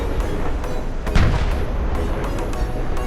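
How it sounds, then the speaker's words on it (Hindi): Repeated heavy booms of Bofors gunfire thud at intervals over a constant rumbling background, distant and echoing, near Tawang. "ये शोर बोफोर्स टैंक की फायरिंग का नतीजा है।"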